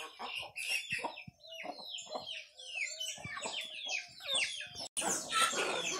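Hens and pullets, including a young brown pullet with a rounded comb, cluck and call repeatedly at close range in a busy overlapping stream, ending with a brief burst of rustling or scratching.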